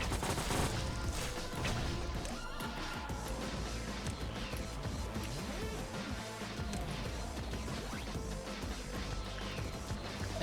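Dense, continuous gunfire in the video game Lobotomy Corporation, a sustained fusillade of overlapping shots layered with loud game music and clatter, heard without any speech.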